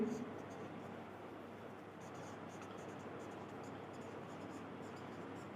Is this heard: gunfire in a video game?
no